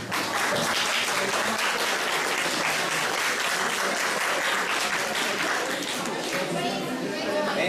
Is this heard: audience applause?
yes